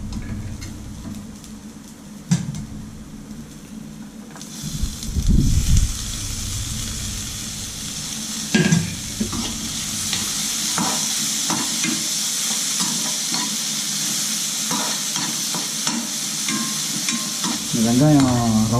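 Onions and tomato frying and being stirred in a pan for a Tamil omelette kuzhambu, a steady close sizzle with repeated scraping stirs and spoon knocks throughout, no talk.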